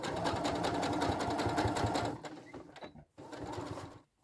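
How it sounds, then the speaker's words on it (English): A sewing machine stitches through denim with a fast, steady mechanical chatter for about two seconds, then slows into a few irregular stitches, briefly stops, and runs again softly. "you can carry on sewing"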